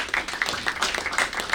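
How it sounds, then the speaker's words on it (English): Applause breaks out at a village conference workshop as students are thanked for volunteering, a steady patter of many hands clapping, fairly close and even in rhythm. "a very big round of applause to the IM-BHU students for volunteering for Vibha"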